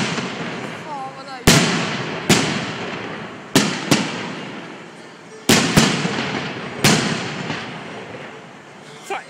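Fireworks show at Liseberg amusement park, loud sharp bangs firing in quick succession and pairs, each echoing and fading, with a whistling rocket early on and faint voices in the background.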